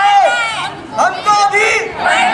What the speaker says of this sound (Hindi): नाराज विद्यार्थियों ने रविवार को कॉलेज परिसर में जमकर हंगामा मचाते हुए कॉलेज प्रबंधन के खिलाफ जमकर नारेबाजी की।